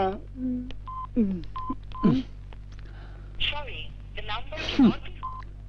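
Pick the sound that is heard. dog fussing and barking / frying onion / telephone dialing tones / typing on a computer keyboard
telephone dialing tones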